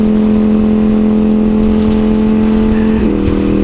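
A steady, loud droning hum of idling car engines in a line of vehicles on the road, continuous and close, with a slight shift in pitch near the end.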